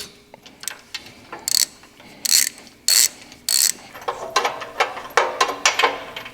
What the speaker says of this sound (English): Just gonna slide a wrench in here, socket, hook it on that spark plug.